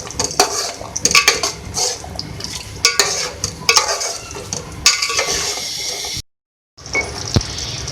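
Almonds are stirred into chicken korma in a pot. A spoon scrapes and clinks steadily against the metal over a soft sizzle, then a brief silence falls before the stirring resumes.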